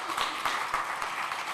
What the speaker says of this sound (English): a huge round of applause to all the participants now